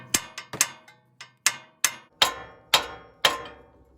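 A hammer strikes a tie rod on the front axle of a 2006 Toyota Tacoma 4x4, about ten sharp metallic blows in an uneven rhythm, close and ringing, some quick pairs and some spaced apart, with no talking.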